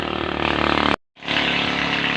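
A motor engine drones loudly and steadily, cuts out abruptly for a moment, then resumes at a similar level.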